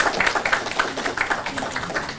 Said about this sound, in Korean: 박수 한번 다시 한번 보내주세요